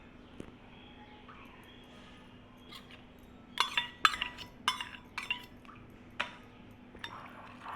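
Yogurt spooned into a bowl of chopped onions and capsicum for paneer tikka masala: a few quiet, close spoon clinks against the dish and soft wet plops, clustered together after a stretch of near silence.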